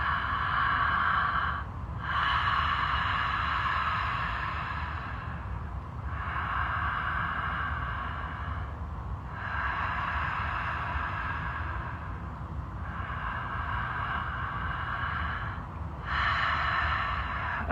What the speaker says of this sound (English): this open mouth breathing feels like I can get deeper into my belly this way